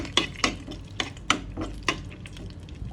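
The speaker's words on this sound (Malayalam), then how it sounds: "നമ്മൾ റോസ്റ്റ് ചെയ്ത കാഷ്യൂനട്ട് അണ്ടിപ്പരിപ്പൊക്കെ നമുക്ക് ഇട്ട് കൊടുക്കാം. ഓക്കെ, ഒന്ന് ഇളക്കി കൊടുക്കാം." A spoon stirs semiya payasam in a pot after roasted cashews go in, giving about seven distinct scraping clinks against the metal in an uneven rhythm with no talking.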